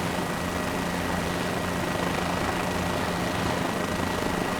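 A helicopter hovering in Microsoft Flight Simulator 2024: a steady, dense rotor and engine roar that stays constant and fills the whole stretch with no speech.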